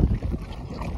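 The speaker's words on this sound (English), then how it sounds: "Pretty good wind, we got about 10 knots right now." Wind buffets a small 16-foot sailboat heading out from Miami in about 10 knots of breeze, a steady, close, low rumbling rush of air and water noise with no speech.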